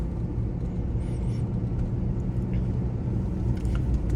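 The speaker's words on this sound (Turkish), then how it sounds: "Yol sesi anlamında güzel bir araç." Inside a moving eleven-year-old BMW F10 520d diesel sedan, a steady, muted low road rumble fills the cabin without interruption or talk.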